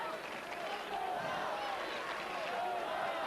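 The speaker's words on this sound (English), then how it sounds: "listen to them cheering for Ivanisevic as he goes back there" A tennis crowd cheers and roars for Ivanisevic across a steady, fairly distant wash of voices, with a commentator talking over it.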